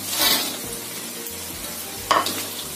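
Prawns fried with ginger, garlic and chili sizzle steadily in a pan while being stirred, with two louder scraping bursts from the spatula near the start and the end.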